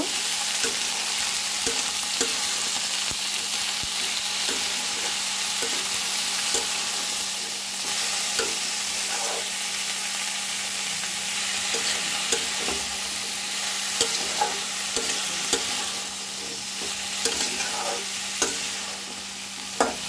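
Chopped vegetables fry with onions in hot oil for a tengra fish chorchori, a steady close sizzle with scattered soft stirring clicks running the whole time, no voices.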